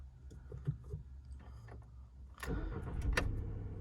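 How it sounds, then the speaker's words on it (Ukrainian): A Volkswagen Touran engine cranks briefly and catches, then settles into a steady, close idle rumble. "Автомобіль заводиться з півоберту."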